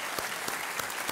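A studio audience on the Kaun Banega Crorepati game show claps steadily in a brief, even burst of applause with faint accented beats.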